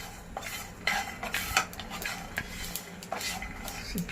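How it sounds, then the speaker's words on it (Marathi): Sesame seeds being dry-roasted in a metal pan for a traditional Makar Sankranti dish, with a spatula scraping and clinking against the pan in quick irregular strokes and a faint background hiss. "आपण हे तीळ टाकूया तीळ थोडेसे परतून घेऊया"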